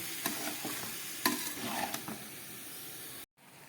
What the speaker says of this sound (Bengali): খুব সামান্য একটু একটু জল আমি দিয়ে দিচ্ছি, যাতে ভালো করে কষাতে পারি